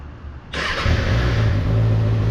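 A 2024 Kawasaki ZX6R motorcycle fitted with an M4 exhaust fires up abruptly and settles into a loud, steady idle close by.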